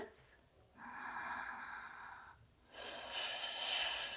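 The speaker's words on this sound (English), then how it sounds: "Deep breath." Slow, deep breathing during a yoga stretch: a long airy inhale, a brief pause, then a fuller, louder exhale, close and steady with no talking.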